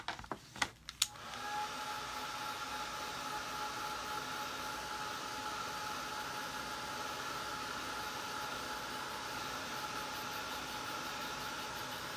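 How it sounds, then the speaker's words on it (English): A hair dryer blows on fresh paint on a snowman craft, starting after a few clicks and then running as a steady, even whoosh with a faint whine for over ten seconds, with no voices over it. "I'm going to dry that and do another coat on it."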